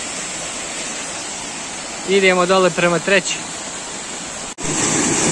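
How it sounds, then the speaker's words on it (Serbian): Steady broadband roar of the Ilomski waterfalls pouring over rocks close by, constant and loud throughout, with someone briefly speaking over it midway. "Evo ga, došli smo ispod drugog vodopada."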